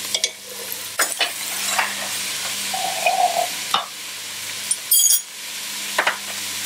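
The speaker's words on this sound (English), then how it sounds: "the mushrooms, the onions, the celery, it all needs to cook together." Mushrooms, onions and celery fry in a pot for cream of mushroom soup, a steady close sizzle broken by several sharp scrapes and clinks of a utensil stirring, with no voices.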